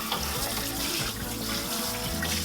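Water runs steadily from a tap into a sink while the hopper of an Omega NC800 juicer is rinsed, a close, continuous splashing gush with small fluctuations and no talking.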